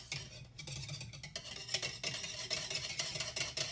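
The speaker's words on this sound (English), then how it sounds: "And I'm gonna whisk this together." Wet ingredients for vegan red velvet cupcakes whisked in a bowl, with a quick, rhythmic scraping and clinking that is close and continuous, with no talk over it.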